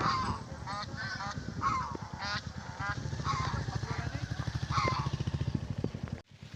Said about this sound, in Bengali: এই সুন্দরবনের কিনারা রাজহাঁস চলে যাচ্ছে